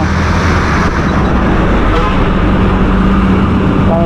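Constant loud highway traffic on the road from Chennai to Ooty, with heavy vehicles rumbling and overtaking close by in a continuous roar, and a faint voice in the background.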